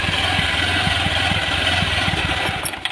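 Honda Vario 110 carburetor scooter idling unevenly, a close, steady low putter with regular firing pulses that rise and dip slightly, alone and fairly loud.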